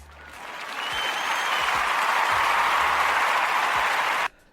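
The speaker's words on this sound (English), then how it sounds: "that deserves an applaud" Steady applause from a crowd swells quickly, holds at full strength for about four seconds with no voices over it, then cuts off abruptly.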